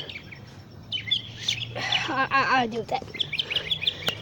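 Bird chirps and tweets interrupt a class, with bright repeated calls scattered throughout and a cluster of rising and falling warbles near the middle, while a person speaks briefly over the background.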